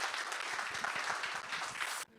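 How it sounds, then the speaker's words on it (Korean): An audience applauds at a Korean speaking contest for international students, sustained even clapping held at one level, then cut off abruptly. "다 박수로 그분들을 격려하도록 하겠습니다."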